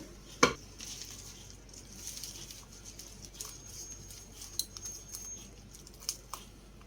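A cutting board is set down on a kitchen counter with one sharp knock during red spinach thoran preparation, followed by a few faint clicks and quiet handling noises.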